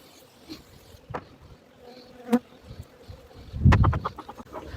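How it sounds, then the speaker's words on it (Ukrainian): Honeybees buzz faintly in the background as a hive is worked on a windy day, with scattered taps and clicks and a louder burst of handling noise near the end. "Бджолки трошки сердяться, бо зараз у нас вітряно."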